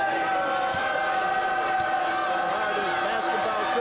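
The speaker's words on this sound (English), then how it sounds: "Real spirited crowd here tonight." A spirited crowd cheers at a basketball game in a triple-header event, a continuous roar of voices with shouts and whistling tones filling the arena at steady loudness.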